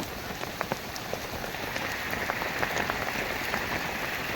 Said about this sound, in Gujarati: પાછો વરસાદ ચાલુ થઈ ગયો છે